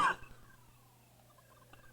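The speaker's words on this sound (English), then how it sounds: "I got the hiccups." A single sharp hiccup right at the start, loud and close, followed by faint quiet room tone.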